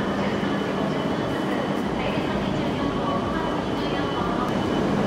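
Tohoku and Akita Shinkansen trains stand coupled at Morioka station, giving a steady, dense rail rumble and station hum that fills the whole stretch, with faint voices in the background.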